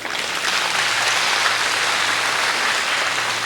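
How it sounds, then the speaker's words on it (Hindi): An audience at a Hindi kavi sammelan (poetry gathering) applauds a poem, a dense, loud, continuous clapping that fills the hall without pause. "आपकी इस कविता पे आप अपनी तालियों की मोहर लगा दीजिए"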